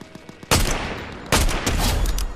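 Rapid bursts of video game gunfire in a multiplayer shooter, two loud volleys starting abruptly and sustained like automatic fire, with faint clicks before.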